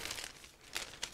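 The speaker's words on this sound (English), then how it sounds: "Now I'm opening another plastic bag" A plastic bag holding parts for a 1/32 scale aircraft model kit is opened by hand, giving soft close crinkling and rustling with a few sharper crackles over about a second.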